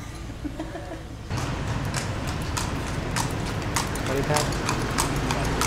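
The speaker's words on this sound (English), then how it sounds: "Lampang is one of the only places, maybe the only place in Thailand that's horse and carts getting about the streets." A horse and cart clip-clop along a street in Lampang, northern Thailand, a steady run of hoof strikes that grows louder partway through, with a voice talking over it.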